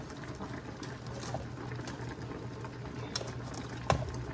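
Bottle gourd curry boils uncovered on high heat in a pot, a steady close bubbling and simmering hiss with a few sharper pops near the end, no talk.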